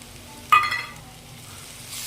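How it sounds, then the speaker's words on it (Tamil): Ground tomato paste poured into a hot pan of sautéed ginger, garlic and curry leaves, giving a sudden sharp sizzle that quickly settles into a quieter, steady frying hiss, with no voices. "இப்போ அரைச்சி வச்ச தக்காளியை ஊற்றிடலாம்."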